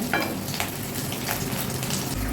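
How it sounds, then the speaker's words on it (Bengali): Two pieces of potato frying in hot oil, giving a dense, steady close sizzle with no talk. "এই তেলে ছেড়ে দিচ্ছি একটু আলু দু পিস আলুই দেবো"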